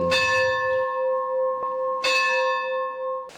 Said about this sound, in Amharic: ደውል